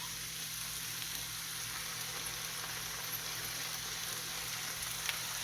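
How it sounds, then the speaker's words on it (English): Steady, even sizzling of gravy in a hot pan, continuous and close, with a low background hum underneath and no voices. "And you immediately hear that sizzle."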